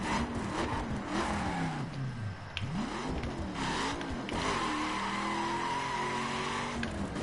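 A car braking hard from high speed with ABS in the racing game The Crew, engine revs sweeping up and down under steady tire noise and skidding, with a sustained engine drone as the car slows.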